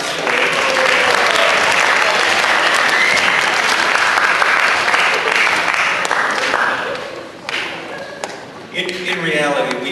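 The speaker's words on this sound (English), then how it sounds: "let's have a round of applause for all of our contestants today." An audience in a school presentation room applauds its contestants with loud, dense, sustained clapping that fades out after about eight seconds, and a voice starts speaking at the end.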